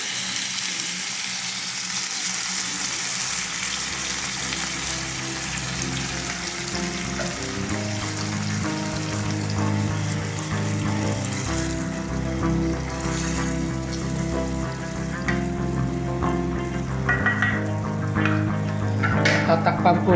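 Coconut milk, the first pressing, going into a pan of green jackfruit, raising a steady simmering sizzle with liquid bubbling and occasional stirring clinks throughout, moderately loud and close.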